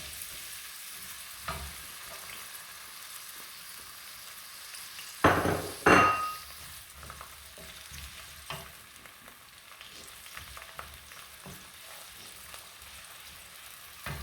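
Onions frying in a pot for Nigerian egusi soup give a low, steady sizzle, broken by a few sharp clanks of a utensil against the pot, close and without talk.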